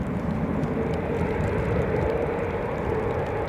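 An Edelweiss airliner in Helping Hands livery at Edinburgh airport on a wet, gusty day with strong crosswinds, heard as a steady broad jet roar with a low rumble, continuous and moderately loud.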